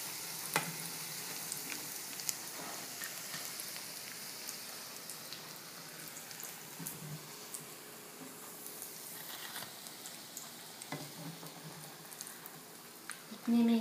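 Potato cutlets fry in a pan with a soft, continuous crackling sizzle, quiet and even like light rain, with a few small pops scattered through it.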